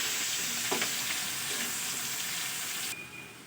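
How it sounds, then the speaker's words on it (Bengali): Onion and chopped chili frying in a pan for a spicy fish curry, a steady broadband sizzle with a few soft stirring clicks, close and fairly even, thinning abruptly near the end. "পেঁয়াজ আর লঙ্কাটা একটু লাল লাল করে ভেজে নেব।"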